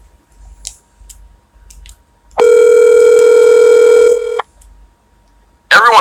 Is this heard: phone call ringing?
yes